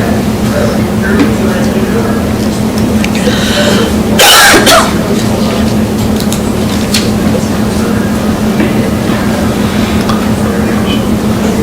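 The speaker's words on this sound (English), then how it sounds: "Can you hear me coughing?" Coughing from a person during a school board meeting, one short loud burst near the middle over a steady hum and faint room noise, with speech around it.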